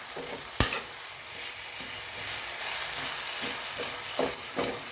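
Egg thoran with chopped coriander and mint leaves is stir-fried in a pan, giving a steady sizzle under a spatula scraping the pan, with a sharp knock near the start and a few more scrapes toward the end.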